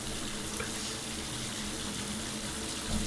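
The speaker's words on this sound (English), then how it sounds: "Alright, I guess I ran some water." Shower water runs steadily in a horror video game, a constant hiss and splash of fairly quiet flow with no voices.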